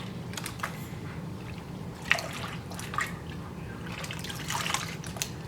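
Raw hair extensions being dipped and rinsed in a basin of water give soft, intermittent splashes and trickles, quiet and close, with a few sharper drips and swishes over a low background hum and no speech.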